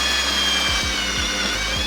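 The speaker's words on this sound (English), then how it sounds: "So I placed the barrel, top of the drill, dude. Let's let it work." Power drill driving clips into a steel deck frame during a deck build: a loud, steady whirring drone close by, with a few low knocks near the end.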